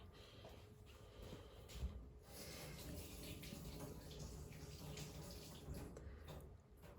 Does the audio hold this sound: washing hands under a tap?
yes